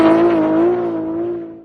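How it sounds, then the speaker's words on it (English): Naturally aspirated 2JZ-GE engine in a 2004 Lexus GS300 holding a steady, smooth, loud drone with strong harmonic tone, close and continuous, easing slightly toward the end with no talk. "It is also one of the best sounding engines you would ever hear."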